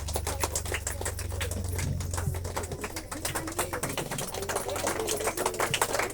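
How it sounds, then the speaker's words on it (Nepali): Students clapping at a school Deusi Bhailo event, a dense, lively patter of many hands over a steady low hum, continuous and fairly close for the whole stretch. "सम्पूर्ण विद्यार्थी भाइ बहिनीले ताली लगाइदिनु होला"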